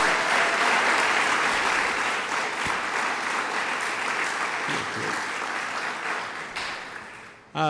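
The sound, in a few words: applause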